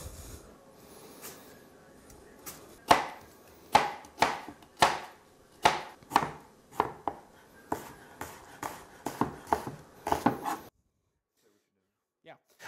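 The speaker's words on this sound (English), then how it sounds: "We'll peel these apples here." Apples being peeled and cut in a home kitchen for a veal Normandy sauce, a steady run of crisp, close knife strokes and chops about twice a second that stop abruptly near the end.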